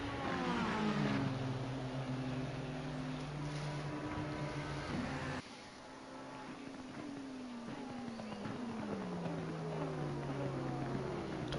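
Racing car in a sim race at Monza, engine note dropping sharply under hard braking while other cars run alongside, a steady loud mix of engine tones with descending pitch sweeps.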